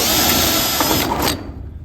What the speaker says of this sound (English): So now we'll just come through and we will simply go center, just drill all these out.